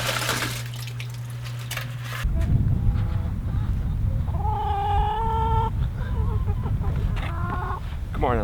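Backyard chickens cluck and squawk nearby in short rising calls over steady running water, with a loud hum and rush at the start.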